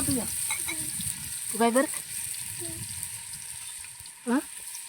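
A single chopped onion sizzles in oil in a pot over a wood-fired clay stove (chulha) for village-style chicken biryani, a steady crackling fry with brief stirring scrapes and faint talk in the background.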